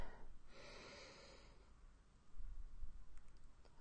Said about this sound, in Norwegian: Hvor du puster dypt inn.